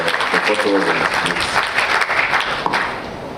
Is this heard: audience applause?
yes